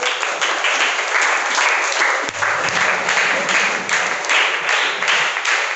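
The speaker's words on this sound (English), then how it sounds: "Claps all of you." A classroom full of students claps together in sustained, loud, dense applause that keeps going steadily without a pause, heard close up with no voices over it.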